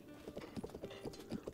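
Horse hooves clip-clop in the video game Zelda Breath of the Wild as a mounted horse steps along, a steady run of close, evenly spaced hoof taps with no talk over them.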